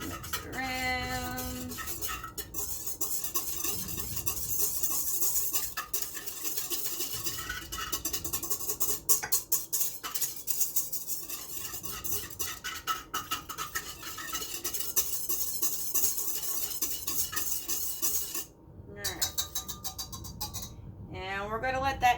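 A spoon stirs sugar into a bread dough mixture in a bowl, with continuous scraping and clinking against the sides and a soft voice talking now and then.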